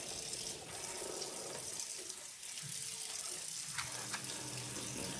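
Tap water runs steadily into a sink as collard greens are washed, a soft continuous splash with faint handling clatter and no speech.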